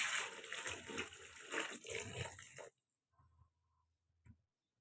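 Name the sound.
washing vegetables in salted water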